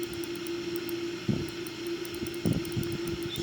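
Boeing 787 jet engines at full takeoff power in a flight simulator game give a steady, moderate drone with a constant tonal hum, broken by a couple of brief thumps.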